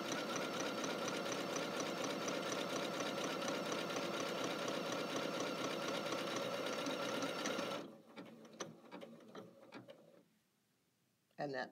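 A Janome Skyline S7 sewing machine runs a steady, fast tacking stitch up close for about eight seconds, then stops, followed by quieter clicks and small handling noises.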